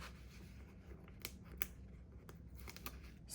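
Scissors cutting planner stickers in half, making a few crisp, close snips scattered over a quiet rustling background.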